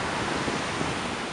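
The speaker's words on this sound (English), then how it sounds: "some of these waves that are crashing" Small ocean waves crashing on a shore, a steady broad wash of surf noise with some wind, fairly loud and continuous, no talking.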